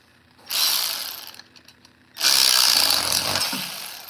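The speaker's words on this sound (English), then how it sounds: "Speed wrench." A speed wrench ratchets on the valve cover bolts of a Toro Timemaster mower in two bursts of rapid, close clicking, a short one and then a longer, louder run, with a brief pause between them.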